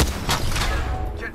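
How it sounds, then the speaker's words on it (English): Rapid gunfire in the video game Apex Legends rattles loudly and continuously with heavy booming impacts, close and dense throughout the short stretch, with a voice briefly underneath. "Getting shot at."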